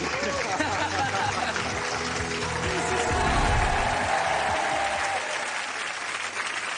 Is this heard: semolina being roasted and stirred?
no